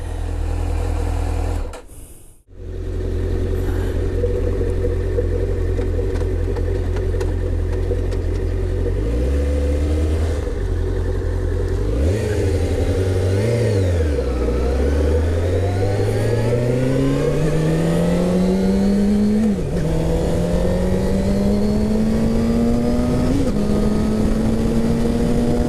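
A 2005 Suzuki GSX-R750 motorcycle engine starts and idles loudly up close, then revs up and down several times before climbing in pitch through repeated accelerations.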